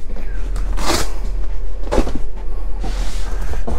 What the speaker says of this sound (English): The bench seats both have drawers, but you'll notice that's not much of a drawer.